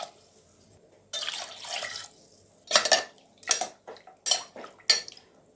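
Water is poured into a pot of mutton with ginger-garlic paste for biryani, a splashy pour followed by several short bursts of sloshing and clinking against the metal pot, close and moderately loud with no talking.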